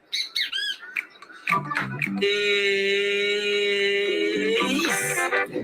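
A small bird gives a few quick chirps, then a long loud sustained tonal whistling song close by, ending in more rapid chirps.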